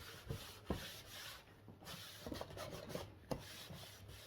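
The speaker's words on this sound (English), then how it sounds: "get the excess stain off" Cloth rubs excess wood stain off a homemade wooden remote control box, repeated close scrubbing strokes with soft knocks, no talk.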